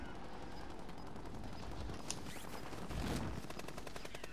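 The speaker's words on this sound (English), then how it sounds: "He's being shot from someone else over here." Rapid automatic gunfire from the Call of Duty Warzone video game rattles continuously, with a sharper burst near the middle and a louder surge of shots toward the end, dense and close.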